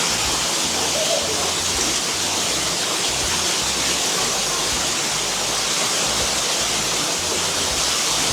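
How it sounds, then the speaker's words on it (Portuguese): Water pours and rushes nonstop at a hot springs resort, a dense, even roar like a small cascade that stays close and loud throughout, with no break in the flow. "Tem água rolando o tempo inteiro"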